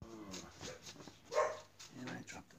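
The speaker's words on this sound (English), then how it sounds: "Hey, little dogs, what are you barking?" Small dogs bark and yip in short bursts close by, mixed in with a person talking.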